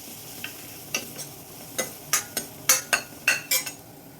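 Grated coconut roasting in a pan for temple-style sweet pongal, with a spoon scraping and clinking against the metal in a run of sharp, quickening strokes over a faint sizzle, close and alone.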